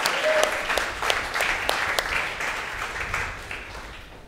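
Congregation applauding at a church worship service, dense steady clapping with a few sharper individual claps, holding at a lively level for the whole stretch.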